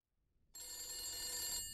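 An antique telephone in the horror game The Beast Inside rings with a bright, continuous bell trill that starts abruptly and carries on steadily, fairly clear and alone.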